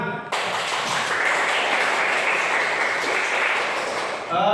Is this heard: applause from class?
yes